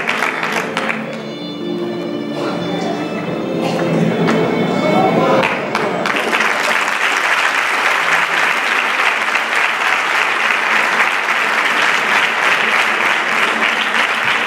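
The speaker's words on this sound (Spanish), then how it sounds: "Un fuerte aplauso como homenaje a don Juan Calé Ferro." An audience at a tribute ceremony honouring elderly people breaks into loud, sustained applause that grows fuller after a few seconds and carries on to the end, with voices mixed in early.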